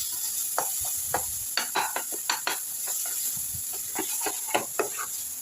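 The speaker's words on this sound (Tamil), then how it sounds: "இப்போ நல்லா இதை வதக்கிறேன்" Curry leaves and tomatoes sauté in a pan for an egg kurma, with a steady high sizzle under repeated scraping stir strokes, close and moderately quiet, without any talking.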